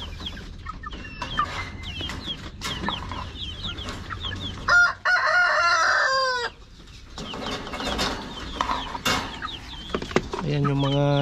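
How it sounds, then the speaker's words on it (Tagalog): Native Darag chickens cluck repeatedly close by, and a rooster lets out a loud crow partway through, over a busy farmyard background with other birds calling. "Ayan yung mga native chicken na darag."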